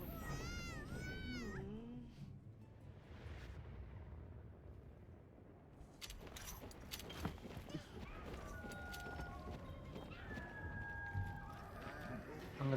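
Cat meows in Monster Hunter Wilds, a few rising and falling calls near the start, followed by game ambience with chimes and talk in the background.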